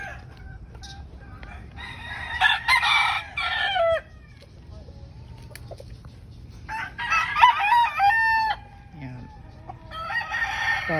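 Roosters crow repeatedly at a small backyard poultry farm with white kelso gamefowl, three loud crowing bursts spaced a few seconds apart over faint clucking and low farmyard background.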